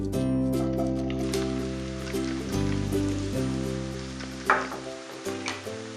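Finely chopped onion sizzles in hot oil, a steady soft crackle lying beneath a loud sustained tonal music bed, with a few sharper spatters near the end.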